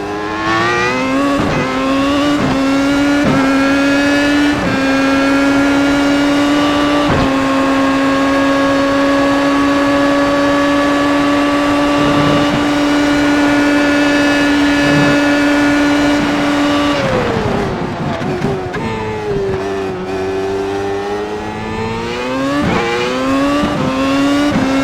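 A Williams FW31 Formula One car laps Sonoma in the iRacing sim, its engine holding a loud, steady high-pitched scream flat out. Near the end the revs drop sharply on a downshift, then climb again.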